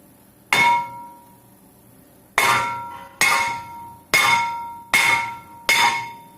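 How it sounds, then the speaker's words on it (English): Six sharp metallic hammer blows on the back of a Honda CR-V front brake caliper, each ringing briefly: one, a pause, then five more in a fairly steady rhythm, loud and close. "hit the back of the caliper once with the hammer"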